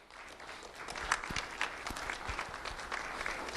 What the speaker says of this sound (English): Round of applause, everyone, for Jesus